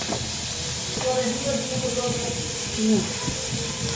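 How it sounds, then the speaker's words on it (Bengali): Onions and chilies dropped into hot oil on a stove, a continuous close hiss of sizzling with faint clinks of a utensil, while someone talks over it. "তো চুলায় তেল বসাই দিয়ে পেঁয়াজ মরিচ দিয়ে দিলাম"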